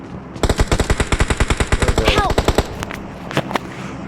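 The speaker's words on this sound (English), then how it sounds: "Another gun. This gun is very big." Machine gun fire in a video game, a rapid burst of loud, closely spaced shots for about two seconds followed by a few scattered single shots, close and dominant.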